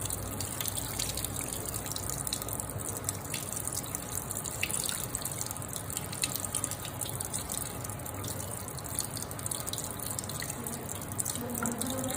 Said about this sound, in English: then we'll cool it under tap water